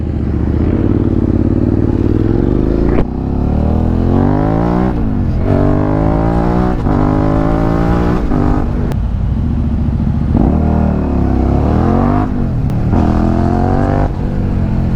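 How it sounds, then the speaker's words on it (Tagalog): A motorcycle engine runs loud and close while riding on an expressway, repeatedly revving up and easing off through gear changes, with rising and falling engine tones and brief dips between shifts. "At pakinggan nyo yung motor ko."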